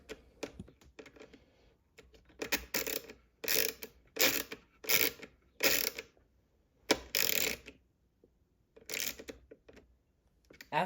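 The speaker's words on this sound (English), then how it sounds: "So then you're going to want to screw it in and make sure it's tight." A screw is driven in by hand to fasten an SSD to a PC motherboard during a first-time build, giving close, dry clicking bursts in an uneven rhythm with short pauses between turns.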